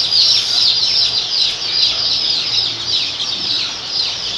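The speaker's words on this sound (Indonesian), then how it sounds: "Kemudian ini ayam yang usia 3 mingguan pemirsa, hampir 1 bulan tapi belum ada 1 bulan." Three-week-old joper chickens fill a coop with a continuous high chorus of cheeping and chirping, dense and fairly loud throughout with no pauses.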